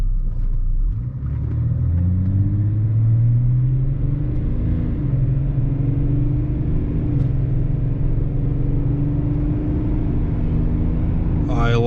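2003 BMW E53 X5 3.0d diesel running on the move, a steady low rumble with the engine note rising and easing through gear changes, heard continuously from the cabin.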